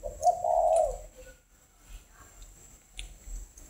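Spotted dove cooing once near the start, a soft, mellow call close by, followed by a quiet outdoor background.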